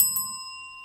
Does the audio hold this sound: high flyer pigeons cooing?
no